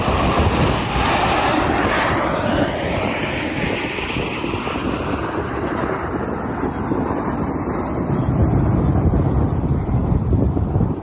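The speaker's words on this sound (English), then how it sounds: "Just a bunch of Blue Angels casually breaking the sound barrier during practice." Blue Angels jets roar past during a practice flight, a loud continuous jet engine rumble with a sweeping pass that rises again toward the end, heavy broadband noise with wind buffeting on the microphone.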